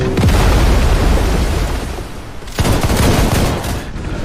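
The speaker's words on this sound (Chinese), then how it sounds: "火枪队自由射击" Rapid musket volleys fire in a naval battle scene of an animated series, dense crackling gunfire bursts loud and close, a first barrage fading after two seconds and a second sharp volley erupting before trailing off.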